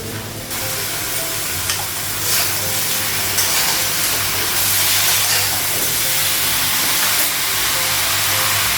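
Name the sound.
frying vegetables in spice mix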